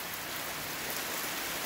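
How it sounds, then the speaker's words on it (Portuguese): Heavy rain pouring down outdoors in the countryside, a dense, loud, steady hiss of drops hitting surfaces with no pauses or voices. "a chuva tá apertando mais um pouquinho"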